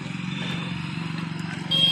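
A motorcycle runs close by with a steady, pulsing engine putter that grows a little louder near the end.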